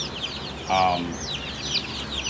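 Chickens in a wire-fenced coop give a single short loud cluck over faint chirpy background calls, with no talking.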